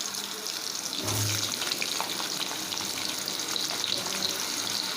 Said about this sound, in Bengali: আলুগুলো প্রথমে ভালো করে ভেজে নিতে হবে।